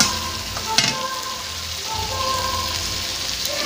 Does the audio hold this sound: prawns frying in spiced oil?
yes